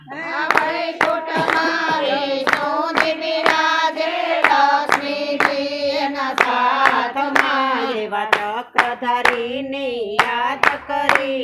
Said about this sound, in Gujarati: તમે શિવ શક્તિને યાદ કરીને તાળી પાડો તાલમાં